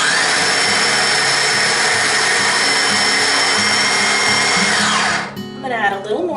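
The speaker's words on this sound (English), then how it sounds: "So while it's whirring away, if it's too thick, I'll be able to add more oil without opening up the food processor" A food processor whirs steadily at full speed while blending a thick batch of hummus, loud and continuous for about five seconds before the motor cuts off and the whine winds down.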